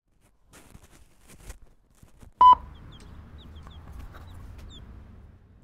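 Young chicks cluck and peep softly close by in a pen, a few short calls scattered over a low steady background, with one brief loud bleep partway through.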